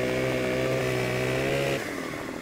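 A chainsaw in the logging video game Farming Simulator 2015 runs at a steady high-revving buzz with strong harmonic whine, then cuts off abruptly near the end, leaving only a fading low hum.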